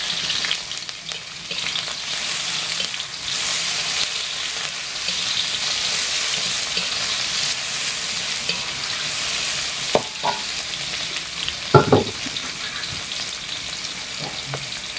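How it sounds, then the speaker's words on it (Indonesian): Bean sprouts and tofu stir-frying in a pan with shallots, garlic, chili and tomato, a steady close sizzle with occasional scraping clacks from stirring, no talk. "Nah, sini kita mau numis toge. Numis toge tahu."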